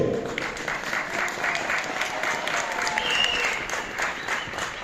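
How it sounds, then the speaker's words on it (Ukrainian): A stadium crowd at a Ukrainian football league match between Epitsentr Kamianets-Podilskyi and Metalist 1925 Kharkiv claps in a broad, continuous roar of applause, a faint whistle rising briefly in the middle. "Ваші оплески!"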